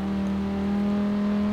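A Quadra Turbo-R in Forza Horizon 4 holds a steady, loud engine drone with a strong buzzing tone, revving evenly throughout without speech.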